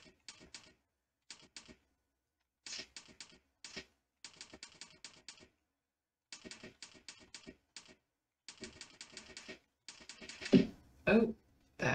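Rapid bursts of typing on a computer keyboard during a timed typing-practice session, with clustered keystrokes separated by brief pauses and a few heavier, louder key strikes near the end. The tapping is close and dry.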